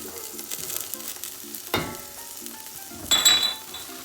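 Onions and green chilies hit a hot pan for mixed fried rice, giving a steady sizzle with a louder burst partway through and a couple of clinks from a utensil against the pan.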